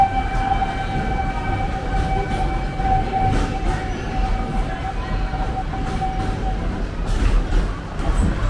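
The Wildlife Express train at Disney's Animal Kingdom moves along with a steady low rumble and a sustained high tonal whine, with muffled voices in the background.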